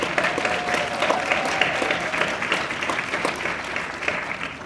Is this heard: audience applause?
yes